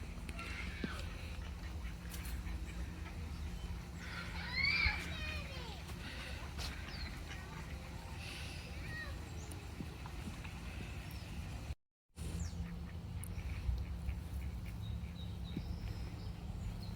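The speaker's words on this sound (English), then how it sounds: "So there's definitely some ducks hanging out." Ducks quacking in a park, faint and intermittent at a moderate distance over steady outdoor background noise.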